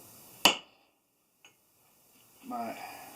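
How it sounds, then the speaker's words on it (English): One sharp metallic strike of a hammer on a punch into metal rings out close by, followed by a faint tap and then a brief bit of muffled talk. "I'm just going to punch some holes here to drill."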